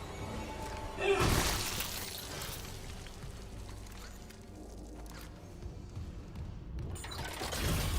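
A body slamming into glass in the video game Dead Space gives a loud shattering crash about a second in, followed by a fading crackle and rumble of game ambience.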